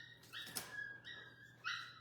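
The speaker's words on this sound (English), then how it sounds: "puppy outside crying. She wants to come in." Outdoors, a puppy whimpers in high, thin whines, three drawn-out cries with a short sharp yelp among them, fairly faint and set back from the listener.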